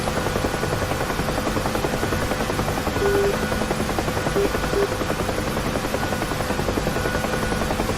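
A UH-1 Huey helicopter flies in the DCS combat flight simulator, its steady rotor thump and turbine drone constant and loud throughout, with no speech.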